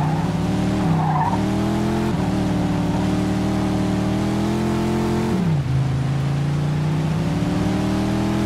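A powerful car in the Mafia 2 video game revs hard, its engine tone climbing and shifting steadily while tires skid and squeal, loud and continuous for the whole stretch with a sharp pitch drop near the end.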